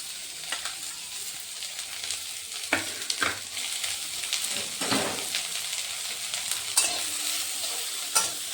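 Chopped carrots, capsicum and coriander leaves fry briefly in a pan as a breakfast dish is made. A soft, continuous sizzle runs under repeated scraping stir strokes, with no one speaking.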